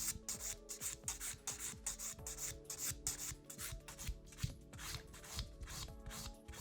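Rhythmic rasping of a nail file stroking along a long coffin-shaped acrylic nail while bevelling it toward the tip, steady repeated strokes close up with no talking.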